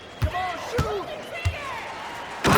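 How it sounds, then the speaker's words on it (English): One-handed slam dunk in NBA 2K25: several sharp thuds of ball and rim land about half a second apart, then a louder crashing burst closes it out, with squeaking shoes and a commentator talking over the play. "he slams it in, one-handed"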